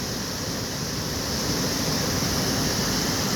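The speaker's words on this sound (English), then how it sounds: "checking out the local wildlife, waterfalls, etc., etc., contemplating my next move in life" A waterfall near Sweet Home, Oregon sends up a steady, full rush of falling water: broad, even noise that never lets up, heard close and fairly loud with nothing else on top of it.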